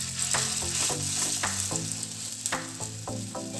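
Spoonfuls of canned tuna mixture frying in hot oil in a pan, a loud continuous sizzle close by with a few clicks and bumps of the spoon.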